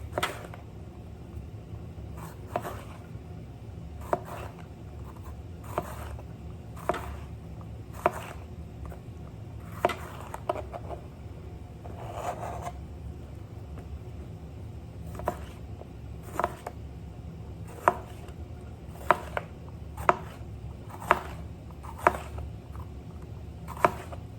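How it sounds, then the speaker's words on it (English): A knife chops onion and vegetables on a board for a Caribbean-style smoked herring dish, producing faint, evenly spaced sharp taps over a low background hum. "I'm just going to go ahead and cut up my vegetables for my smoked herrings."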